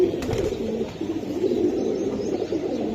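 Giribaz pigeons cooing continuously in low, throaty murmurs, several birds overlapping close by with a steady background hum.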